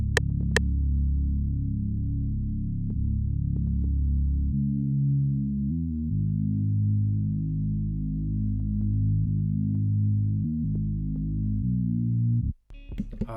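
A synth bass one-shot drones low and sustained, shifting pitch in a few slides and steps, loud and steady before cutting off near the end.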